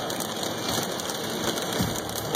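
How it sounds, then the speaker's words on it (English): Hailstorm striking a vehicle during a drive in Nebraska, a dense continuous hiss of pelting ice on the roof and glass, loud and unbroken throughout. "There's a hail going on."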